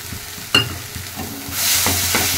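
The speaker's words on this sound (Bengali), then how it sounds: "খুন্তির সাহায্যে ছানাগুলোকে ভালো করে মশলার সঙ্গে মিশিয়ে দিতে হবে" A metal spatula stirs crumbled fresh chhana from half a litre of milk into sizzling fried spices for a vegetarian curry, with a sharp scrape near the start and a steady close frying hiss that swells in the second half.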